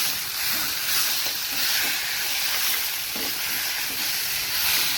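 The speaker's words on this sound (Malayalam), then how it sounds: "നമ്മൾ അരിഞ്ഞു വെച്ചിരിക്കുന്ന തക്കാളിയും കൂടെ അതിലേക്ക് ഇട്ടൊന്ന് ഇളക്കി കൊടുക്കുക" Chopped tomatoes tossed into hot oil hiss and sizzle while being stirred for a tomato roast, a continuous, fairly even crackling hiss with faint scraping.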